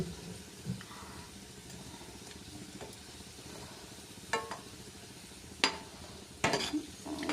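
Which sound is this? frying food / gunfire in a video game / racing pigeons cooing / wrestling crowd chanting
frying food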